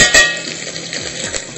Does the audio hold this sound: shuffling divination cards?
no